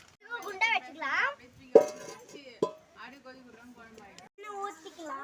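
Metal cooking pot set down on a stove while preparing Sunday biryani, a couple of sharp clanks standing out between stretches of someone talking close by.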